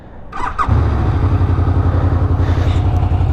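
A Honda VFR 800F V4 motorcycle engine cranks briefly with a starter whir, then catches and settles into a loud, throbbing idle close by.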